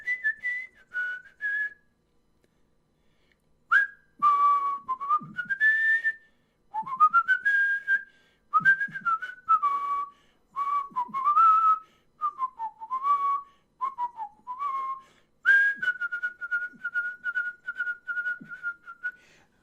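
A person whistles indoors to call a large dog named Odin. Short rising and falling phrases are separated by pauses, and the last note is held long. The whistling is close and clear, with no talk.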